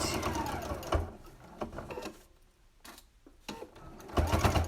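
A sewing machine stitches across the pleats of a fabric face mask in short bursts with brief pauses, fairly close and without talk.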